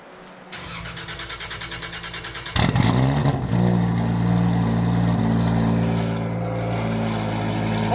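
A 1,000 hp Toyota Supra running on E85 fires up and revs hard on the street, a loud, close engine roar with a sharp start and sustained high idle and revs.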